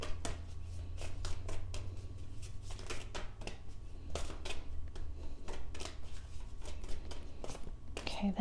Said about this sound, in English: feel called to shuffle again